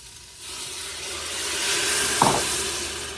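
A hot pan sizzles loudly while deglazing after New York strip steaks, hissing and spitting as liquid hits it, with a brief burst of steam mid-way.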